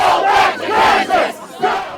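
Large crowd of counter-protesters, numbering in the thousands, shouting together outdoors in loud rhythmic bursts that rise and fall across a couple of seconds.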